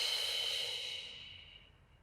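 A long, steady exhale during a beginner Pilates core exercise, a close airy breath that gradually fades out over about two seconds, with no talking.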